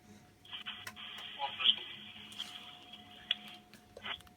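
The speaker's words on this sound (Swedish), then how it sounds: "Nu ringer vi Psychos." A telephone dials a call, a steady electronic ringback tone held for a few seconds with brief clicks and soft background noise, then cut off.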